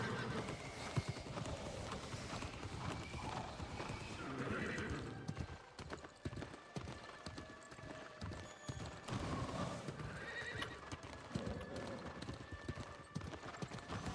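A horse in the video game New World gallops with steady rhythmic clip-clop hoofbeats and gives loud whinnying neighs, with game ambience and a voice talking briefly underneath.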